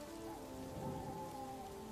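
Steady rain falls as background ambience for a tabletop role-playing session, a soft continuous hiss with faint low rumbling beneath, even and unbroken over two seconds with no voices.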